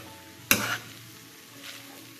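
Chicken fried rice with kaima rice stirred in a pan, one sharp metallic scrape and clatter followed by soft sizzling and a fainter second scrape, close by.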